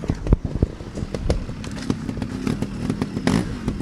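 A trials motorcycle at an extreme trials show in Lanark revs and putters close by, with uneven throttle blips and clattering as it weaves between cones.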